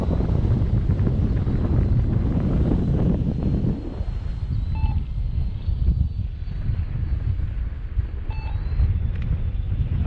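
Buffeting wind roars across the microphone during a flight of an E-flite Ultimate 3D 950mm RC plane on 3S power, loud and steady at first, then easing slightly, with a faint distant motor whine underneath.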